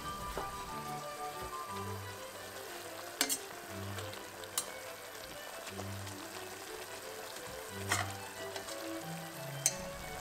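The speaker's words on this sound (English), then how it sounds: "you can add the green peppers back and mix everything, simmering for 1-2 more minutes" Green peppers simmering and being stirred in a pan, a steady soft sizzle with a few sharper scrapes and clinks of the utensil against the pan.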